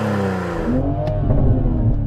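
Toyota Supra engine revving up during a side-by-side car comparison, a loud, close exhaust note climbing in pitch and holding steady with no talk over it.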